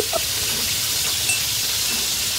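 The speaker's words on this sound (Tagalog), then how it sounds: "wala pa ito, nagaprito pa lang kami" Ingredients for ginisang monggo, sautéed mung beans, sizzling in a pan as a loud, dense, continuous fry hiss up close, with a faint clink near the start and no talking.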